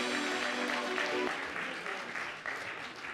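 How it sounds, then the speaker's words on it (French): An audience applauds a researcher at a French public talk, a short burst of clapping that is fairly quiet and fades gradually, with a brief voice at the start. "Applaudissements pour lui, s'il vous plaît."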